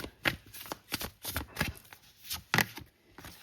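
Tarot cards shuffled by hand close up, a rapid run of soft riffling flicks and slaps with uneven rhythm, quiet and alone.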